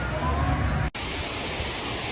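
Waterfall in front of Tham Aen cave roars as a steady, dense broadband rush, loud and continuous, with a brief dropout partway through.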